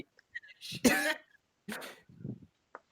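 A person coughs loudly, a harsh burst followed by a second round of rough, throaty coughs and a short clearing sound.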